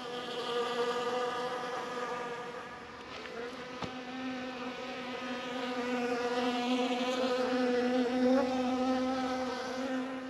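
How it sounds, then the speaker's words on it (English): Many bees buzz steadily around sugar-water feeders and pollen feeders hanging on a tree beside a compost pile, a dense, sustained drone of overlapping wings close by, with no speech. "See the bees are into the sugar water there."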